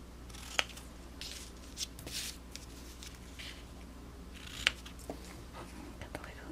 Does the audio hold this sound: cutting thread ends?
yes